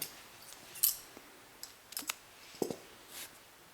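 A pair of scissors snips through yarn while a crocheted hat is being made, a few quiet, close, crisp clicks and cuts spread over a few seconds, with no talking.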